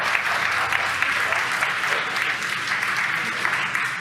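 A crowd cheers and applauds after a SpaceX Falcon 9 booster touches down on a Starlink mission. The clapping is dense and sustained, holding at an even loudness throughout.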